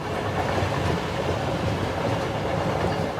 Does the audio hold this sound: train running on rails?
yes